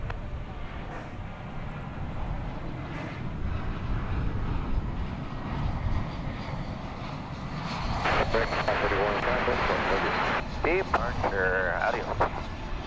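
An American airliner takes off from runway 18 left at DFW Airport at night, a distant engine roar that builds and grows louder, heard under radio chatter.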